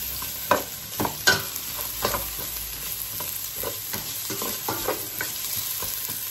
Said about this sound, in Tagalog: ilagay na natin yung onion, sibuyas